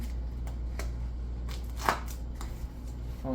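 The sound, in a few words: sports tape being wrapped around a thrown weapon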